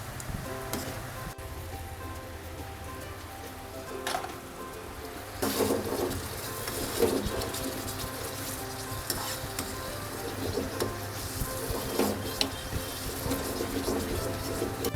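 Keema kofta curry, a spicy minced-meat dumpling curry, sizzles steadily in a pan as water is added and it is stirred, with louder bursts of bubbling and scraping strokes through the middle and end, heard alone without talk.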